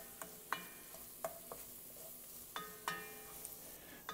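Two teaspoons of minced garlic stirred in a pot for a pork roast, a quiet low sizzle broken by sharp intermittent clicks and scrapes of the utensil against the pot.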